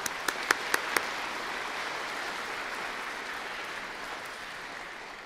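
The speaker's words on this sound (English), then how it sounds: "let's give our platform party a huge round of applause" A convocation crowd applauds the platform party at a college ceremony: a few sharp early claps swell into a broad, steady wash of clapping from a large audience that holds evenly for several seconds.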